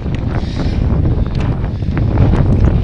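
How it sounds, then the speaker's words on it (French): Steady wind buffets the microphone throughout a long road bike ride on a 120 km mountain tour, a loud continuous low rumble with gusty swells and no talking. "Ouh, là, il y a du vent."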